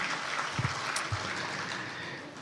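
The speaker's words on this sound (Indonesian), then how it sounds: "kita beri tepuk tangan untuk seluruh DPW yang hadir bersama di ruangan ini" Applause from an audience at a national working meeting (Rakernas) held indoors, heard as a faint, steady wash of distant clapping with a couple of louder thumps and no talking over it.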